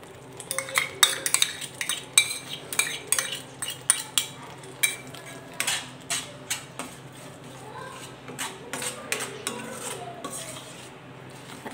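A spatula scrapes and clacks against a pan while masala paste with cashew paste is sautéed for dhaba-style palak paneer, busy irregular metallic knocks with a faint sizzle beneath, close and fairly loud.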